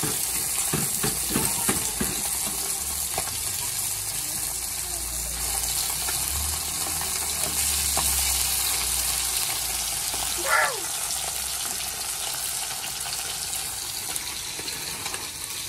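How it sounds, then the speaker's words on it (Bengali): Fish frying in a pan in a home kitchen gives a steady, dense sizzle throughout, with a brief sharper flare partway through and faint background voices. "মাছ বসিয়ে দিয়েছি, মাছটা ভেজে নিই"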